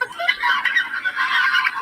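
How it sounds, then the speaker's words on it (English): Geese and turkeys on an Appalachian homestead honk and call nearby in a dense, continuous flurry of loud, overlapping cries. "Man, them geese and turkeys."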